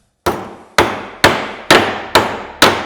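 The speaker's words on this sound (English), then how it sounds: "I can keep my sausage fingers away from my hammer and drive it into place" Six sharp hammer blows drive a nail held in a nail holder tool on a wooden work surface, each strike loud and close with a ringing decay, spaced about half a second apart.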